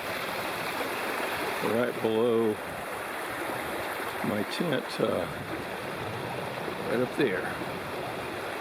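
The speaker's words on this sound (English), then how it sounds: "And the river is down there" The Big South Fork river rushes steadily beside a backpacking tent, a continuous broadband wash of flowing water. Someone talks briefly over the constant flow.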